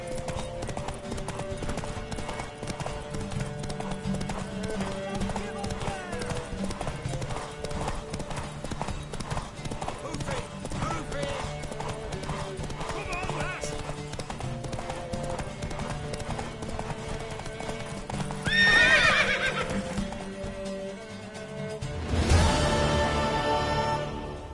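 Horse hooves clip-clop steadily in the video game Witcher 3, a continuous rhythmic trot under music, with a louder rustling burst near the end.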